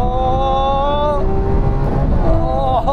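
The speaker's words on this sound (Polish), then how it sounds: "Włączmy tryb Corsa i pobawmy się trochę tym V12." Lamborghini Aventador V12 engine in Corsa mode, a loud close revving drone with rising and falling harmonic tones as the engine climbs, a brief shift break midway, then rising again.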